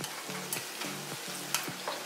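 Shrimp frying in a pan gives a steady sizzle, broken by several short scraping clatters as the pieces are stirred and turned, close and moderately loud with no talk.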